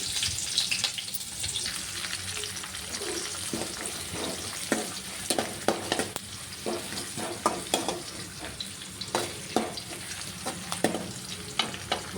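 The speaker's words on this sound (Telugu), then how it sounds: "కొంచెం జీలకర్ర అలాగే మనం కట్ చేసుకున్న ఆనియన్స్ కరివేపాకు అన్నీ వేసి వేయించుకోవాలి" Mustard seeds, cumin, chopped onions and curry leaves fry in a pan for a drumstick-leaf tamarind stew, giving a steady close sizzle with repeated sharp crackles and pops scattered throughout and no talking.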